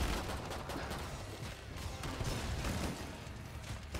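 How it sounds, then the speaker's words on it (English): Rapid gunfire crackles continuously in the Killing Floor 2 co-op video game, a dense, fairly faint barrage of overlapping shots with no pause. "I'm shooting them, but I'm having more fun shooting you."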